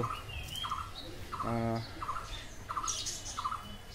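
Egg-laying farm ducks give a series of short, nasal squawking calls at moderate distance, repeating in bursts with brief pauses between them.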